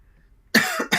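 Two quick, harsh coughs from a man close to the microphone, coming one right after the other after a moment of near silence.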